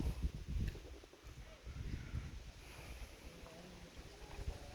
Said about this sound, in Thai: ดูลม ลมดีมาก